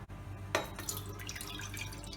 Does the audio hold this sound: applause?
no